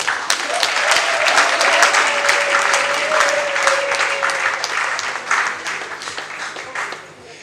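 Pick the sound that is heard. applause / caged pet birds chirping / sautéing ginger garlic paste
applause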